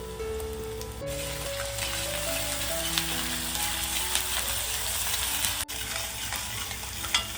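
Crushed ginger and garlic fry over golden-browned onion in a pan for a Maharashtrian veg Kolhapuri dish, a steady close sizzle with occasional stirring scrapes and a brief clunk, no voices.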